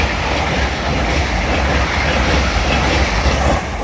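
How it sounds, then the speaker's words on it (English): Class 800 unit 800-104 runs through Doncaster station on the East Coast Main Line, a loud steady roar of wheels and rail noise with faint rhythmic clatter, close by and continuous. "What's through now is 800-104 celebrating Scotland"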